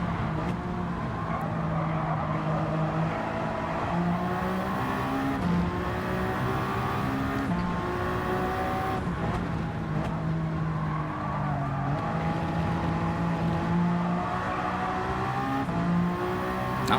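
Race cars in Gran Turismo 7 during an endurance race at Watkins Glen, engines droning and revving steadily with gear shifts rising and falling, a continuous loud mechanical roar throughout.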